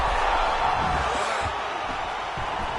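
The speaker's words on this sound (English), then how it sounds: "you hear the crowd react every time they come together" Steady, broad roar of an arena crowd in a UFC fighting game on PS5, a continuous murmuring wash that swells slightly then settles, with no clear individual voices.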